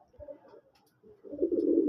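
Pigeons in a loft give a faint coo, then a louder, close, throaty cooing burst near the end, with no talk over it.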